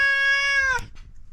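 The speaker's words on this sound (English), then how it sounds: "There's a cat here now." A house cat in a home in Hargeisa gives one clear, drawn-out meow close by, ending abruptly, followed by faint room noise.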